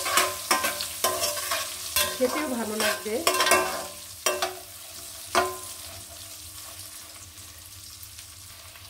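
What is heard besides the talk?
koi fish frying and stirring in pan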